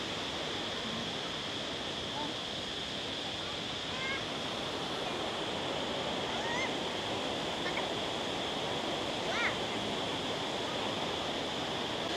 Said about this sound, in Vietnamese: Từ trên kia thác nước đổ xuống.